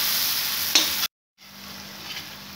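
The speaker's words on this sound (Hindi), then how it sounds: "मसाले को हम धीमी आंच पर पकाएंगे ताकि मसाला हमारा जले नहीं" Masala spices fry over low heat for a vegetable curry, a dense hiss with a single scrape of the spoon, then a brief cut of silence before the sizzle returns, slightly quieter, and no one speaks.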